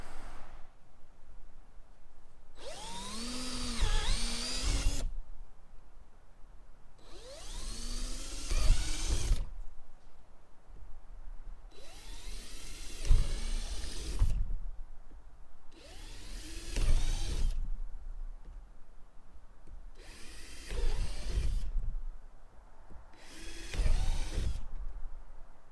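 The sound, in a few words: power drill drilling holes in gear sled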